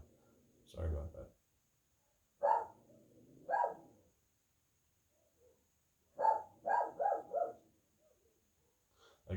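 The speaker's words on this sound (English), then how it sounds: "My dogs are barking." Several dogs bark in short clustered bursts, loud and close, with quiet pauses between the volleys.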